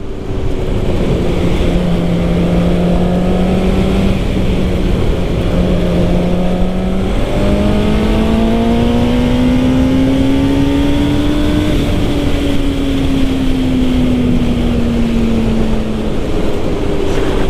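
A Suzuki GSX-R 600 sport motorcycle engine revs up and down in long rising and falling sweeps, loud and close, with no talking over it.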